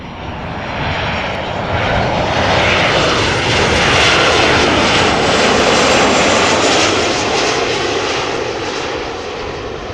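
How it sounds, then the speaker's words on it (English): A Transavia Boeing 737-800 arriving at Amsterdam Schiphol from Palma de Mallorca roars steadily past, a loud, sustained broadband jet rumble that swells toward the middle and holds near throughout. "a Transavia 737-800 is closing in behind me,"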